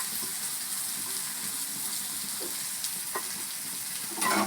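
Chopped onion hits hot oil with cumin seeds in a kadhai, giving a continuous close sizzle with a few clinks and a louder burst of frying near the end.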